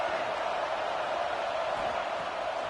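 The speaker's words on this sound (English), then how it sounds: "These fans are going absolutely nuts" Stadium crowd noise in a college football video game, Arkansas against Clemson, a steady loud roar of fans with no breaks, close and filling the whole moment, and no commentary over it.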